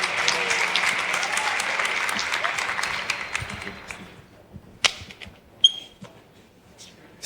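Audience applause fills a church gathering, dense clapping for the first few seconds before thinning out into scattered claps and fading toward quiet.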